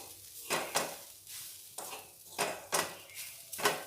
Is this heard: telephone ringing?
no